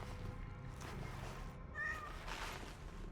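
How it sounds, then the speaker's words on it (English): A cat meows in Cronos: The New Dawn, with one clear mid-length call near the middle of the clip rising above a dense, steady game ambience. "The louder the meow, the more urgency you're trying to communicate."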